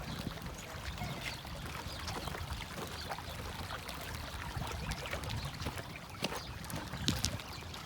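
Irrigation water flowing steadily across a flood-irrigated field in Arizona, a continuous broadband rush and trickle with no breaks, with a few brief splashy bursts near the end.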